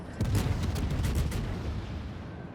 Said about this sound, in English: I just fire blind salvos into the smoke because the game is ending anyway